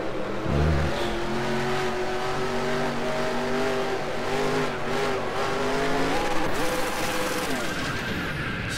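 Race car spinning out in NASCAR Racing 2003, its engine droning loudly while the tires squeal and skid in long sliding tones, pitch bending as the car rotates, with no talk.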